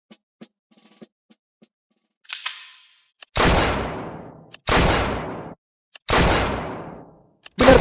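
Gunshots at a shooting competition ring out in a steady series of three loud, close blasts, each followed by a long echoing decay, with a fourth starting at the end and faint clicks before them.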